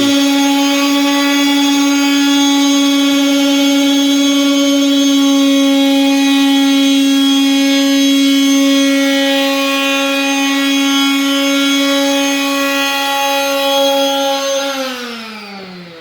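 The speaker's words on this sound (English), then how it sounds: "we're using this little small sander to do that with" A small electric sander works on wood for a sustained stretch, giving a steady, loud, high whine that holds its pitch and then drops away as the motor winds down near the end.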